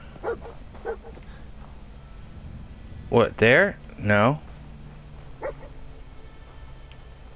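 A dog companion in the Fallout 4 video game barks and yelps in two loud, close bursts midway, with short gruff sounds before and after, over game background noise while someone speaks briefly.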